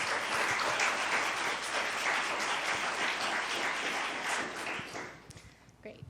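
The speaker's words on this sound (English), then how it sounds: "Can we please give a round of applause to our panelists?" Sustained, loud applause from an audience for panelists at a live-streamed panel on French-speaking newcomers to Canada; dense clapping fills the room and then thins out and fades near the end.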